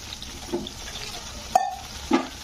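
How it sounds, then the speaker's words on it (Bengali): Water from a rinsed bowl is tipped into a pan of spiced flour-based curry, landing in a couple of brief splashy pours over quiet kitchen background. "এতে সামান্য একটু বাটি ধুয়ে জলটা দিয়ে দিলাম আমি"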